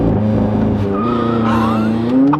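A supercar accelerating hard off the line using launch control, with a loud, close engine roar climbing in pitch and a brief tire squeal, sounding alone.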